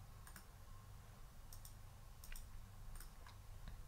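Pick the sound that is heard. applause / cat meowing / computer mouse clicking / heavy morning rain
computer mouse clicking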